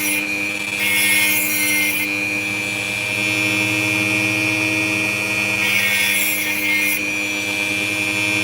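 Opal stone being ground on a powered lapidary wheel to round off its sharp edges, a steady loud rasping grind with brief harsher bursts of contact, near and alone.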